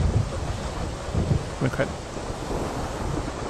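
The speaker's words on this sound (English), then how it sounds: "Let's click on the storm at sea. Listen to ocean, rain at seashore," A Hotmoon Omini portable sound machine plays a storm-at-sea track, a dense roar of surf and wind-like rushing noise, with a brief spoken word and a few faint knocks underneath.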